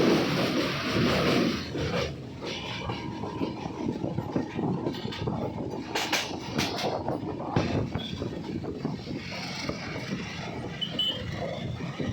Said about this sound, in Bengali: আর এখন কিন্তু আমাদের ট্রেন আস্তে আস্তে কার্ভ নিয়ে ঢুকছে শিলিগুড়ি জাংশনে